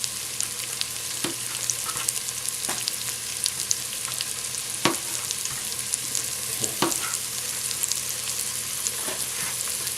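Shrimp scampi ingredients sizzle steadily in a pan, a constant close frying hiss broken by occasional clicks and scrapes as they are stirred now and then.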